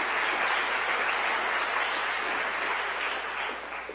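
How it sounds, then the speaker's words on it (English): A large audience at a public schools address gives teachers a round of applause, dense sustained clapping filling the room for four seconds and tapering slightly at the end. "we really do need to give our teachers a round of applause"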